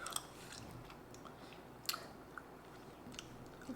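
Close, quiet chewing of Swedish sour gummy candy, soft wet squishes with a few sharper bites scattered through the moment, with no talking.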